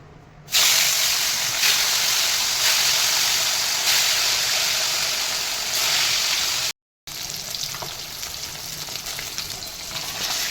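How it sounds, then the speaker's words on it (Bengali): Fish frying in hot oil in a kadai, a loud, steady close sizzle and hiss that carries on without a break, cut off once by a brief silence before it resumes, with no voices. "কড়াই তেল গরম হয়ে গেছে এবার মাছ ছাড়বো"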